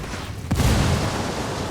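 A single loud, close boom during a firefight in Ghost Recon Wildlands, with incoming fire from a helipad, its sharp crack followed by a rumbling, fading tail.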